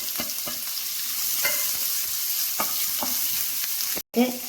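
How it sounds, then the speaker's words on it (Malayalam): Chopped onion sautéing in hot oil in a pan, a continuous sizzle broken by scattered stirring scrapes and a brief dropout near the end, close and fairly loud with no voices. "ഇനി അതേ എണ്ണയിലേക്ക് 1 സവാള ചെറുതായി അരിഞ്ഞതിട്ട് ഒന്ന് വഴറ്റിയെടുക്കണം."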